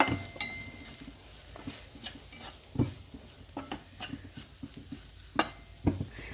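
Onion mixture with black pepper powder and garam masala being sautéed in a pan for a Kerala-style squid roast, a steady soft sizzle under repeated scraping strokes of a spoon against the pan, close and fairly quiet.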